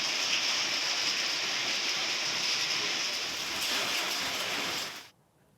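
Unseasonal rain falls steadily in Beed's Patoda taluka, a dense even hiss of rain that holds loud and constant for about five seconds, then cuts off abruptly.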